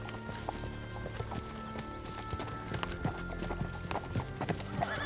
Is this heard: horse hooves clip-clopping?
yes